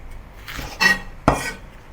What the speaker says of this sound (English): And some bok choy. Cut it into half.